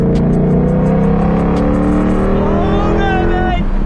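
A Ford Shelby car engine revs hard, a loud close roar whose pitch climbs steadily over a few seconds before dropping off, with an excited voice briefly heard over it.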